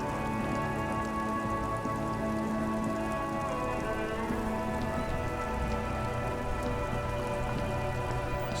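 Constant rain pours down in the video game Disco Elysium, falling on surfaces as a dense, even patter that stays close and steady throughout, with faint tonal game ambience beneath and no voices.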